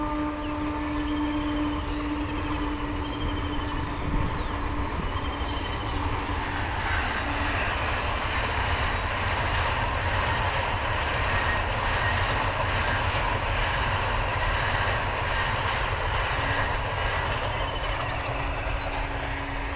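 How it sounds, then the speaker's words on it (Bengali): A train passes along a rural track at dawn, a steady broad rumble of wheels and rail noise with faint clickety-clack that holds throughout at moderate distance, no voices. "আমিও তেমন এখানে ট্রেন দেখতে আসি মাঝে মাঝে।"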